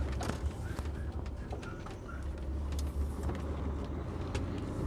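A tipper truck drives past on a country road, a loud steady engine rumble and tyre roar close by that lasts throughout without a clear peak.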